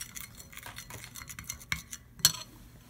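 Spoon stirring a small dish of sriracha sauce and condensed milk, a soft scraping clatter running steadily with a couple of sharper clinks near the end, close and fairly quiet, no voices.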